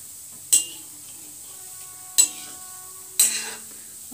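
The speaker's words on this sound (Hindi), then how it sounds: "ऐसे हिलाते हुए पकाएंगे।" Gulab jamun frying in a pan are stirred, with three sharp metallic clinks of a spoon against the pan spaced unevenly over a faint background sizzle of hot oil.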